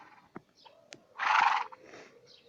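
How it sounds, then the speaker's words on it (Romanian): A bay horse gives a loud neigh, a single burst of about half a second in the middle, set among quieter snorts and faint clip-clop sounds. "Am adus un murg aici să văd dacă e bun."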